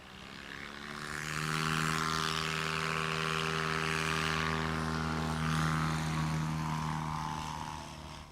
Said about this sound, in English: First off the line, Gary Schmidt in that silver and yellow Just Aircraft Super Stoll